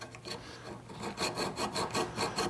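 A hand file is pushed sideways along the edge of a spokeshave blade to draw-file it, making a steady run of rhythmic rasping strokes. The strokes are close and moderately quiet, each one a scratchy swish.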